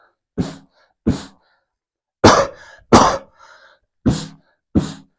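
Six coughs into a paper-towel bottle in a steady sequence, each short and somewhat dulled, with brief quiet gaps between them and no talking.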